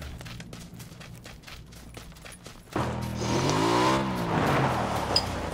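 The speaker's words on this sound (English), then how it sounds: "I hear you driving." A vehicle in the PUBG video game starts driving mid-clip, its engine rising into a steady loud drone with shifting pitch after a quieter stretch of background game noise.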